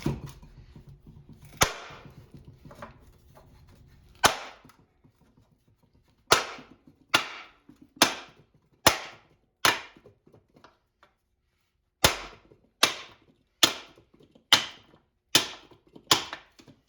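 Sharp metallic hammer blows driving a Honda Civic trailing arm bushing, about a dozen loud separate strikes, first spaced irregularly and then falling in a steady quick rhythm, each ringing briefly.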